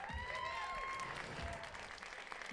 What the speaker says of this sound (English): Nice round of applause for Never Summer for doing this too.